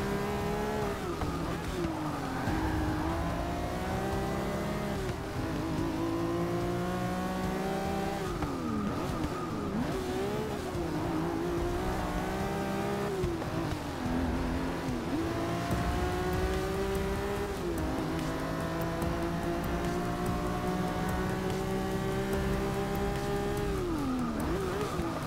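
Race car engines in Forza Motorsport 6 rev up and down continuously, rising pitch sweeps as cars accelerate, shift and brake into corners, with brief tire squeal, loud and steady throughout.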